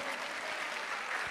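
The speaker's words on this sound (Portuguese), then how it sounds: "Aplaude o Senhor pela vida dela." A church congregation applauding to praise God, a dense, even wash of clapping that fills the whole short moment at a distance, with no voices over it.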